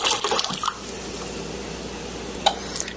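Hot water runs from a Brio water dispenser into a cup as a brief, light splash, followed by a quiet, steady trickle and a small drip near the end.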